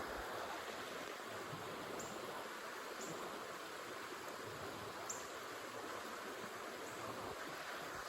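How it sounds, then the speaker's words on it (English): A flowing creek gives off a steady, close rushing of water that holds an even loudness throughout, with a few faint high chirps coming through above it. "Listening to the sound of that creek."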